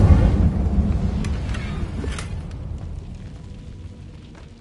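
Incendio fire spell cast in Hogwarts Legacy: a loud low whooshing burst of flame at the start that rumbles and fades out gradually over a few seconds, alone without talk.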